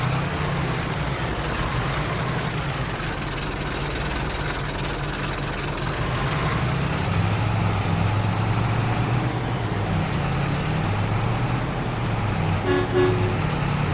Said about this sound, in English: Horn sounds the same though.